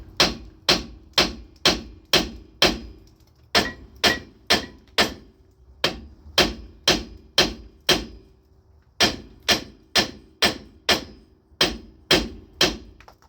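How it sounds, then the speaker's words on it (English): A hammer strikes a van's lower ball joint in steady, sharp taps, dozens of evenly spaced blows with one brief pause, loud and close. "I'm going to just be tapping it with the hammer"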